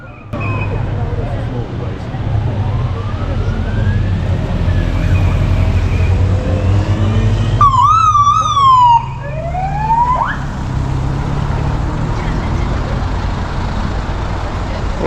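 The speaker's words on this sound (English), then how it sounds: "there's a police car, followed by some ambulances" A police car siren wails past a roadside crowd at a Tour of Britain cycle race stage, its rising and falling tone loud and close for a few seconds over steady traffic rumble and background chatter.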